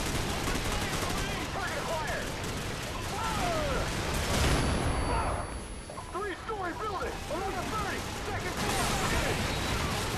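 Call of Duty 4 combat with rapid gunfire bursts and grenade blasts, loud and near, dense and continuous throughout with a brief lull midway, a voice talking over parts of it.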